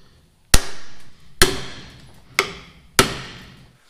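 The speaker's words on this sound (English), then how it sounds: "we can pound out the three old studs and replace them with the longer ones" Four sharp metal hammer blows knocking out old wheel studs, evenly spaced and loud, each ringing briefly before the next strike, with no talking.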